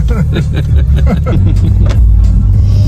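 A 700hp BMW G80 rumbles loudly and close by as it pulls away, a deep continuous engine drone with a voice speaking over it.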